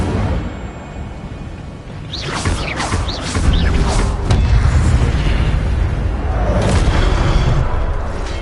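Fiery Incendio spell blasts in the game Hogwarts Legacy, a run of loud bursting whooshes and booming crackles with a sustained roaring rumble, no voices.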